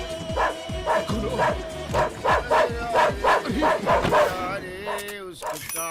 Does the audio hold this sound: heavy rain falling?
no